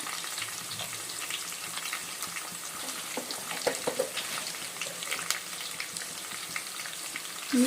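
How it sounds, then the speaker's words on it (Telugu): Curry leaves and ginger garlic paste fry in a pan for Dalcha, a soft, continuous sizzle and crackle with occasional scraping stirs, close and moderately quiet, with no voices. "కొంచెం పచ్చివాసన పోయేలా ఫ్రై అవ్వాలి"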